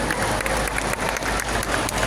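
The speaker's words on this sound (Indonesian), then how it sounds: "Tepuk tangan untuk seluruh siswa dan siswi" A crowd in an indoor sports hall applauds junior high school students with dense, sustained clapping from many hands, loud and continuous throughout.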